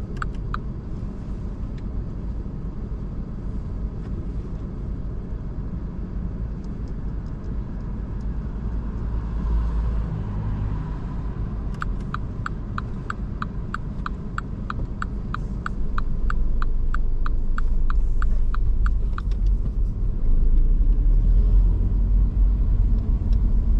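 A car pulling away and driving on a road during a mock driving test in Swindon, a steady low engine and road rumble that grows louder partway through, with a faint rapid ticking, no voices.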